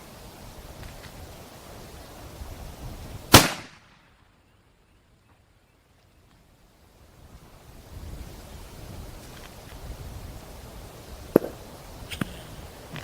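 A .50 caliber rifle fires at a target over two miles away in light wind: one sharp, loud report, then a few seconds of near silence before faint outdoor wind noise and small clicks return.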